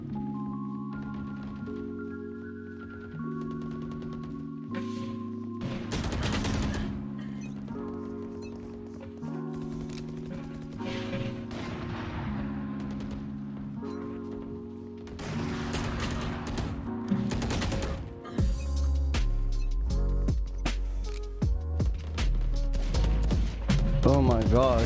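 Video game gunfire crackles in scattered shots and short bursts over game music and effects, with the player talking at points across the clip.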